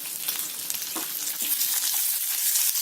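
Small peeled onions sizzle and fry steadily in hot oil in a clay pot for a village-style fish curry, a continuous close crackling hiss with faint stirring and no voices.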